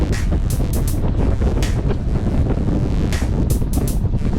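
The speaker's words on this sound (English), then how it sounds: "we've got this north wind pounding us" A cold north wind buffets the microphone of a cyclist riding a lumpy road, a loud, continuous low rumble with repeated gusty bursts.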